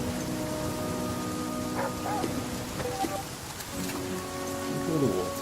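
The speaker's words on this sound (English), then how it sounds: "I just need to hope that the rain stops before I die." Rain in the survival video game The Flame in the Flood falls as a steady, soft hiss of drops on surfaces, with a faint low rumble and a brief dog-like bark or whine near the end.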